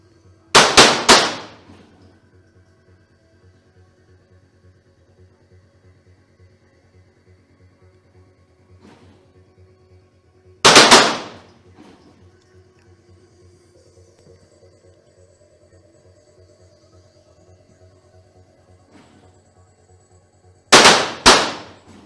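Rifle shots at a shooting competition, three sharp loud cracks spaced about ten seconds apart, each with a short echoing tail, over a steady low hum and a quiet background.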